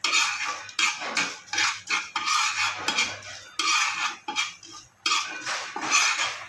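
Fenugreek seeds dry-roasting in a pan, stirred with a spoon in a steady rhythm of close, gritty scrapes and rattles, with no talk.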